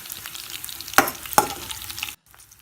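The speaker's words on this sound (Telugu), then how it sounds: "ఇప్పుడు కరివేపాకు వేయండి." Curry leaves go into hot oil for tamarind rice, setting off two sharp crackling bursts over a continuous sizzle that cuts off abruptly near the end.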